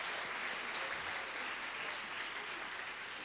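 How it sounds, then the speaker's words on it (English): An audience at a festival ambassador coronation gives a steady round of applause, faint and distant, with dense clapping sustained throughout and no voices. "How about a round of applause for these ladies?"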